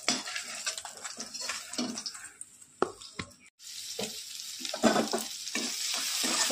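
Banana flower (mocha) fritters sizzle and crackle in hot oil in a pan, with steady frying hiss broken by sharp pops and occasional stirring scrapes, loud and close, with one brief gap.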